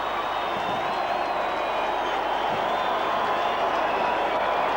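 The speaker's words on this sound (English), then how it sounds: "The crowd go wild here at Lang Park for one of their favourite sons, Mal Meninga." A packed rugby league test crowd at Lang Park roars and cheers continuously, a dense steady wall of noise with no break.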